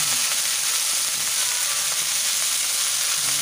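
Washed raw cabbage frying in hot oil with dried red chilli and nigella seeds: a loud, steady, dense sizzle that hisses evenly throughout with no pauses.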